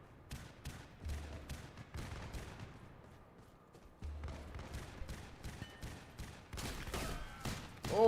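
Rapid bursts of gunfire in a PS3 online shooter game, repeated sharp shots in quick runs under a low rumbling game backdrop, moderately loud throughout.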